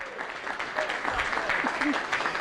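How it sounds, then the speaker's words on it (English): A live audience at a UKPL Manchester high roller poker tournament applauds the champion with a dense wash of clapping, while an announcer's voice talks over it throughout. "Ladies and gentlemen, a big round of applause, please, for the high roller champion"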